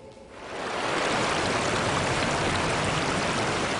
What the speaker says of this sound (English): News Channel 9's Lindsay Rachel takes us to the river to show us despite low water levels, there are still rewards to find.